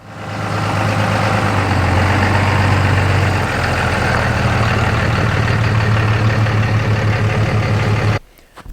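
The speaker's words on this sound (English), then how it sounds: "So I'm gonna go get the truck pulled around, hook onto the feed bin" A truck engine runs loud and close while the vehicle is pulled around to hook onto a feed bin on a farm, a steady low droning rumble that cuts off abruptly near the end.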